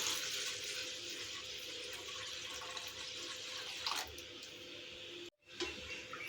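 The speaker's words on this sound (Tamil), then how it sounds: "இது கூடவே நான் 1 லிட்டர் அளவுக்கு தண்ணி சேர்க்குறேன்." Water is poured into a pan in a steady, close, splashing stream, about a litre for a payasam, briefly cutting out near the end before resuming.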